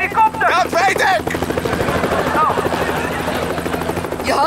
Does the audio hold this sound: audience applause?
no